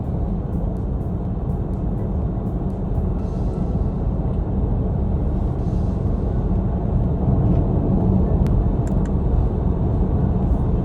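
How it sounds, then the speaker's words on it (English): Steady low rumble of tire and road noise inside a Porsche Panamera GTS with sport suspension and an 8-speed dual-clutch gearbox, cruising at highway speed; constant and unbroken throughout, with no talking. "A little bit of road noise in the sport suspension with the tires, especially when you get into highway speeds."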